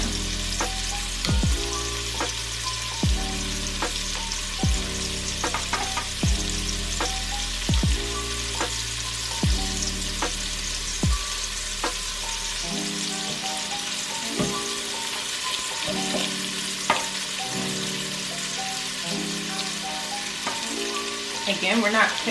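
Meat browns in a hot pan before slow cooking, giving a continuous bright sizzle and hiss with a few stirring knocks, heard under steady rhythmic background music.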